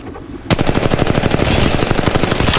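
Rapid automatic gunfire in the mobile battle royale game Apex Legends Mobile bursts in suddenly after a quiet moment, a loud, dense, steady stream of shots that continues to the end.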